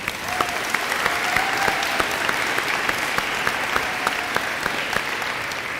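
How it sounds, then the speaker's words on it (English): Steady applause from an audience at a spring sports awards ceremony honoring a boys' track team, continuous dense clapping with a few sharper claps standing out, sustained throughout with no talk over it. "Let's give the boys' track round of applause."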